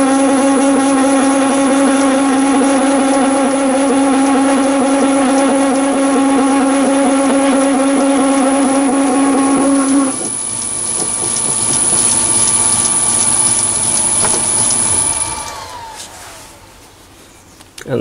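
A metal lathe turns a brass fire piston part as the cutting tool is wound down by hand, a loud steady machine drone with strong tonal whine that shifts pitch around ten seconds, then spins down and fades near the end.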